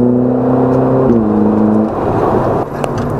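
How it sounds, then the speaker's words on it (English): Ferrari 488 Spider engine droning loudly on a track, a steady high whir that drops in pitch partway through as the car eases off. "So this is the Ferrari 488 Spider version, and it was amazing driving this"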